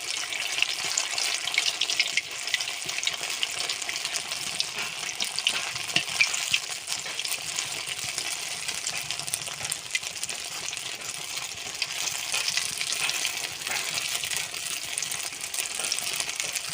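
Pieces fry in hot oil in a wok, unseasoned with no salt or turmeric, for a vegetarian dish imitating goat fat. A continuous, even sizzle and crackle runs throughout with no voices.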